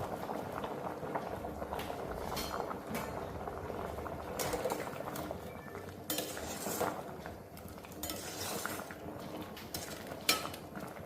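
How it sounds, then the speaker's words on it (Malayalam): Tapioca boils in a pot on a Kerala kitchen stove with a continuous close bubbling, broken by occasional light clinks of a utensil against the pot, and no one speaks. "കപ്പ തിളച്ചിട്ടുണ്ട്"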